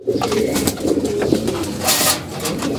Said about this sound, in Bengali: 2টা কবুতর আছে উপরে,